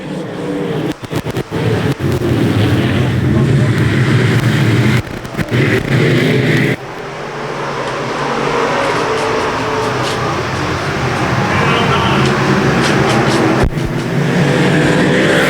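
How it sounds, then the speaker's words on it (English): Modified stock cars roar around a speedway oval in a race, engines droning loud and continuous with passing surges and a brief lull midway, crowd-level ambience beneath. "Modifieds out on the speedway, getting ready to go."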